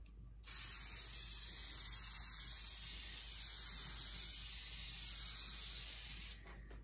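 Mohawk leather dye sprayed in a light coat onto a guitar top: a continuous close, loud hiss of the aerosol that starts abruptly, holds steady for about six seconds, then stops.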